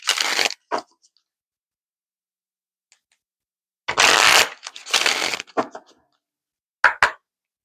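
Isis Oracle cards are shuffled in several short, crisp riffling bursts, close and fairly loud, separated by near-silent gaps.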